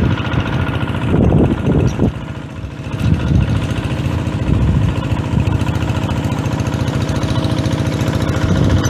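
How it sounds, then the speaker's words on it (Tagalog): A small engine driving a farm irrigation water pump runs continuously with a steady chugging drone, loud and close, briefly swelling in pitch now and then. "Yun yung makina namin. Papatubig."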